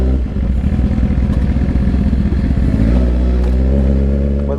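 A motorized bike's small engine runs close and loud, a continuous buzzing drone with rattly clatter that steadies into an even hum partway through.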